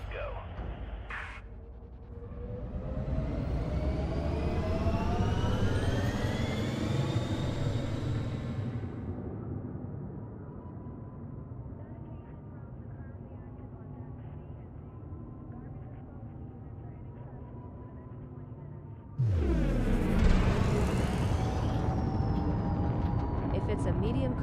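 A spaceship launching in the video game Elite Dangerous, with a rising whine and swelling thruster roar, a sustained engine hum, then a sudden loud surge of thrust near the end, with someone talking over parts of it.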